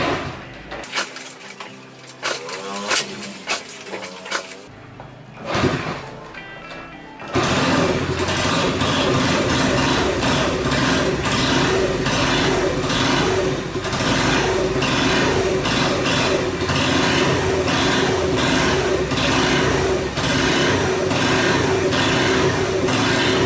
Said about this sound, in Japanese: さあ、エンジンかかりますかい？